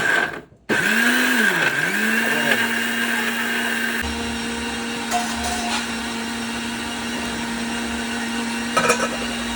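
An electric mixer grinder grinds coconut with cumin in a kitchen, starting with a rising whine and then settling into a loud, steady motor drone.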